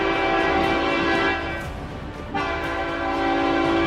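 A train carrying wind turbine blades sounds a sustained horn, loud and tonal, dipping briefly midway before resuming over a rumble of rail noise.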